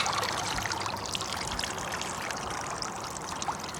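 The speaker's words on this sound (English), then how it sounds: "Just let a little bit of water drain out." Water drains out of a fish weigh sling held up on scales on the River Wye, a steady close trickling and dribbling that continues evenly.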